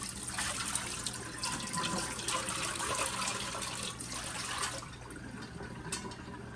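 Sunflower jelly liquid poured through a small kitchen strainer, a steady close trickle and splash that runs for several seconds before thinning out and stopping, with no talk.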